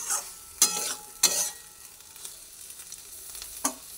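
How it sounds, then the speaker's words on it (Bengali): Chana dal being stirred in a pan, with a few distinct scraping strokes breaking through a quiet, faint sizzle; three louder stirs stand out, spaced well apart. "সুন্দরভাবে এবার নাড়াচাড়া করে দিচ্ছি"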